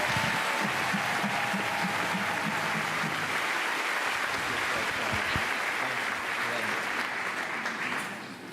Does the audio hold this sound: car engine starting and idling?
no